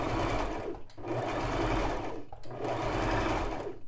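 A Brother LX3817 sewing machine runs a knit blind hem stitch on fabric in short bursts, three close whirring runs separated by brief pauses, loud and steady with no voices.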